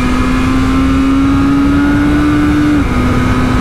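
A BMW M1000RR Competition superbike engine, still in break-in, held at a steady high rev against its limiter with a sustained tone that dips briefly near the end, loud and close with no talk.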